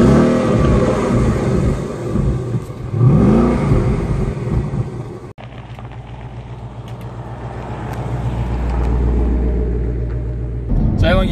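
Car engine revving and driving, loud and rumbling, rising then easing off, then a deeper steady drone as the car cruises; someone talks partway through.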